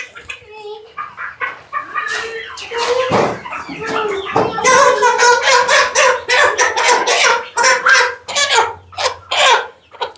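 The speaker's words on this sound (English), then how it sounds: "It's a lot of roosters" Roosters and chickens on a homestead in Mexico crowing and clucking in a dense, overlapping chorus, with a voice talking close by and a few sharp knocks in between.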